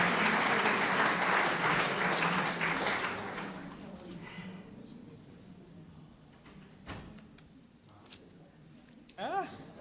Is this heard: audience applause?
yes